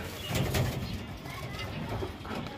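Racing pigeons cooing softly in a low, repeated murmur as a pair is put together, fairly close, with a brief faint voice underneath.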